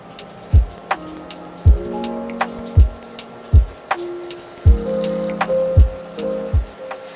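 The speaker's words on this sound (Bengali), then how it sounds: "টক দই দিয়ে মশলাটা আবার ভালোভাবে কষিয়ে নিচ্ছি।" Spiced masala cooks with sour yogurt in a pan for Bengali tel koi fish curry, a soft steady sizzle broken by repeated close, sharp knocks of a spatula stirring against the pan.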